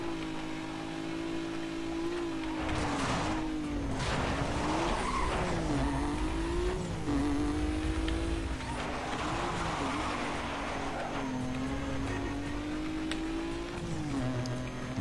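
Race cars in Need for Speed Most Wanted Black Edition (2005) roar at a steady engine pitch that rises and dips, while tires squeal and skid in several loud bursts through the corners.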